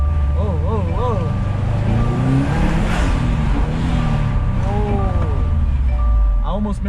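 A car fitted with a Cobb SF intake revs up through its gears, the engine note rising and dropping in repeated sweeps, loud and close, with someone talking over it.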